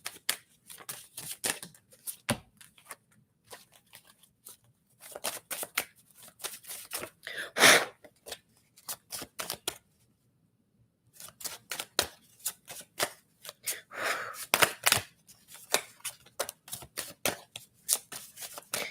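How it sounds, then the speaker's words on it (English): Tarot cards are shuffled by hand, close and crisp: rapid riffling bursts and flicks that repeat in clusters, with a brief quiet pause in the middle before the shuffling resumes. "Let me pull some cards for that."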